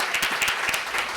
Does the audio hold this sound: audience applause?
yes